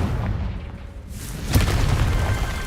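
A Confringo spell explodes in Hogwarts Legacy with a single sharp boom and burst, followed by a lingering rumbling roar over a dull game background.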